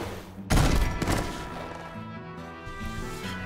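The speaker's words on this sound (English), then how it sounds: "I think that's a Smith & Wesson." Gunshots from a Smith & Wesson in an animated short, a sudden loud blast at the start that trails off into a rumbling, crackling echo.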